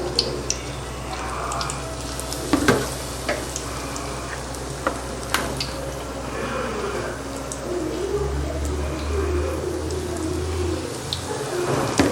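Sliced plantain bajji fry in hot oil with a broad, steady sizzle and crackle, close by, punctuated by a few clinks and stirring sounds, and a low hum entering late.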